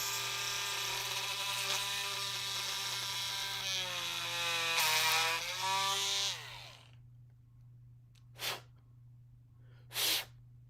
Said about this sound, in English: So we're going to drill right through it.